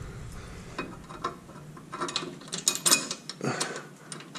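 A bolt, washer and nut being fed and threaded onto front stabilizer jacks on a Casita travel trailer, heard as faint close metallic clicks, small ratcheting ticks and scrapes in an irregular rhythm.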